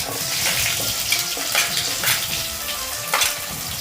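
Onions fry in a pan with a hissing, watery sizzle, punctuated by a few scraping stirs and clatters, fairly close and without any voices.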